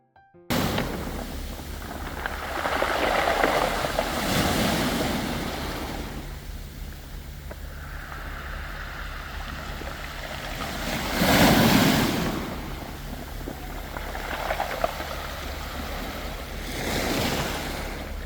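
Waves roll onto a pebble beach on Korea's west coast at Hwanggeumsan in Seosan, with broad surges swelling and receding every few seconds over constant wind noise and no voices.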